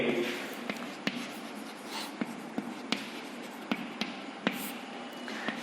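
Pen scratching on paper while a maths solution is written out, a soft continuous scraping dotted with light taps and ticks at an uneven pace, close and fairly quiet.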